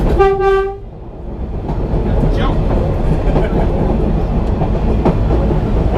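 A Kuranda train's horn blasts briefly, then a loud, steady rumble and clatter of train cars rolling past nearby.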